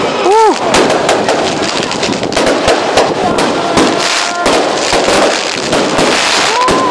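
New Year's Eve fireworks over Yangmingshan, dense loud booms and crackling bursts in rapid succession with whistling rises, heard outdoors from a distance.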